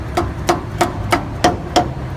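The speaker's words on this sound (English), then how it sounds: "And now we can tap the axle out." A hammer taps out the rear axle shaft of a Toyota Tundra, six evenly spaced metallic strikes with a ringing tone, close and clear, no speech.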